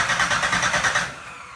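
A Pontiac 400 V8 cranking and firing for the first time in a T37 build, a loud rapid rhythmic churning that catches and then fades away after about a second, close up with no talk.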